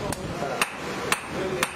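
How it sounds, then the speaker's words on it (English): Hammer blows on a heated metal loop being flattened on a curved hammering block while forging a sickle: four sharp, evenly spaced strikes about half a second apart, close and clear over a low background rumble. "That loop is heated to be hammered into shape"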